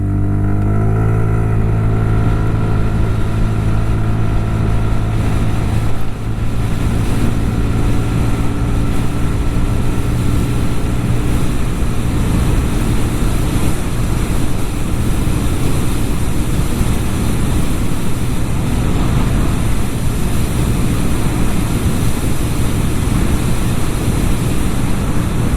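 A TVS NTorq 150 scooter accelerates hard in race mode, its engine drone loud, steady and close, rising through the revs with heavy wind rush over the whole run and no voices.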